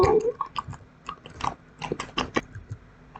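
A zombie bites a person in a video game: a close burst of wet, crunchy chewing and biting noises in irregular, overlapping bites, with no clear voice over them.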